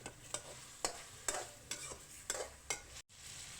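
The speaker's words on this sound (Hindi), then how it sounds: "अब आपने अच्छे तरीके से लहसुन और चिकन को फ्राई कर लेना है।" Garlic and chicken fry in a pan for chicken nihari, with a soft steady sizzle under rhythmic scraping stir strokes, about seven in a row, fairly quiet and close.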